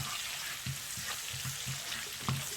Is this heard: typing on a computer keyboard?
no